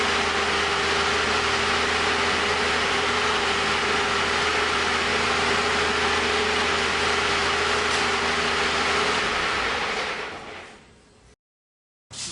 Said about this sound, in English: let the engine run and cool down.